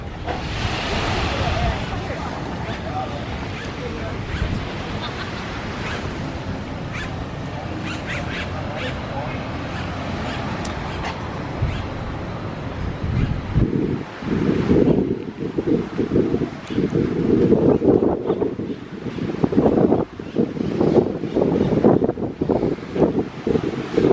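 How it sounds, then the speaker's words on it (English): Strong wind buffets the microphone in gusts at an all-inclusive resort in Cancun, Mexico, roaring and uneven, with a voice talking underneath. "It's a little bit windy right now, so I'm not sure if you can hear me"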